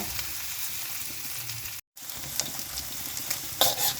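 Mi goreng sizzles and fries loudly in a pan while being stirred, a close continuous crackle broken by a brief gap and a few sharper scraping strokes near the end.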